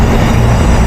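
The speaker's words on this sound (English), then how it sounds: "And here's the train." Train passing in Newcastle upon Tyne, a loud, dense rumble of wheels and carriages rolling by close to the listener for under a second.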